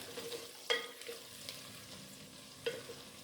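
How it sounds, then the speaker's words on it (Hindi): Onions sizzle softly in a hot pan, with a couple of sharp clinks from a utensil stirring against the metal. "प्याज को हम जो है वो फ्राई कर रहे हैं"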